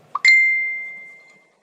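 A phone notification sounds as a short click followed by a single bright, loud ding that rings out and fades slowly over about a second in an otherwise quiet room.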